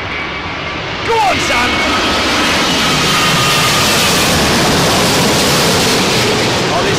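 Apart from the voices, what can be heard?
Virgin Atlantic jet aircraft engines in played video clip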